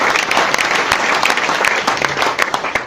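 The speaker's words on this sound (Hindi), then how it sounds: "इन सभी अचीव्स के लिए एक बार जोरदार तालियां।" An audience at a business achievers' event claps loudly for newly promoted members, dense steady applause with sharp individual claps, continuous from start to finish.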